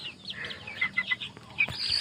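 Chicks and chickens on a mountain farm chirp and cluck in a busy, overlapping flurry of short high calls, fairly close, with a brief sharper squawk near the end.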